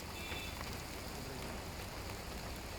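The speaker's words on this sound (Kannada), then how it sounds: "ಬೆಳಗ್ಗೆಯಿಂದಲೂ ಕೂಡ ಜಿಟಿ ಜಿಟಿ ಮಳೆ ಆಗ್ತಾ ಇದೆ" Light drizzling rain falling steadily over Bengaluru under an overcast sky, a soft continuous patter with no voices.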